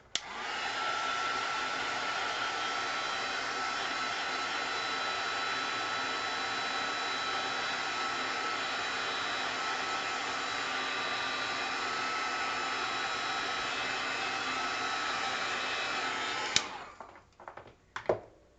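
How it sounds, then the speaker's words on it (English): A hair dryer blows steadily at close range to dry black gesso and paint on a mixed media tag, running loud and constant for about sixteen seconds before cutting off, followed by a few faint handling clicks. "Okay, I'm going to dry it again."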